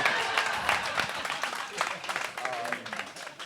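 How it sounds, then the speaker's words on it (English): Audience applause at a community organizing panel discussion, a steady dense wash of clapping lasting several seconds at moderate level, with some voices mixed in underneath. "give me a round of applause for that, right?"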